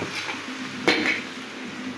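A lid set onto a pot of spinach cooking with sliced green chilies: one clear metallic clank near the middle, then a soft ringing scrape over a quiet background hiss.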